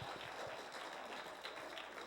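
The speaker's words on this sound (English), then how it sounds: "give me a round of applause" Applause from an audience at a motivational speaking event rolls on for about two seconds, a dense, steady patter of many hands heard from some distance, with no speech over it.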